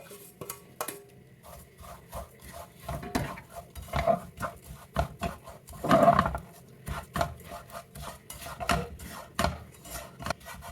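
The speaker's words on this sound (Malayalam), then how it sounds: "ഇതിലേക്ക് ഈ സേമിയ ചേർത്ത് വെക്കാം." Semiya vermicelli is stirred in a metal pan over low flame for a sweet dish, with close, irregular clinks and scrapes of a spoon against the pan and a few louder knocks.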